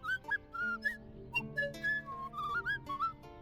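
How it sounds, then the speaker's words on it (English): Characters in the video game Tails of Iron chatter in quirky whistled tones, a quick run of bright, sliding whistle phrases rising and falling in melodic, speech-like bursts, clear and close over a soft musical backdrop. "why do they speak in weird whistles?"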